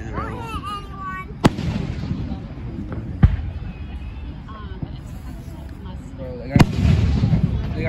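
Sharp, loud Fourth of July firework bangs, three distinct booms spaced a few seconds apart, with crackling and a noisy crowd talking throughout.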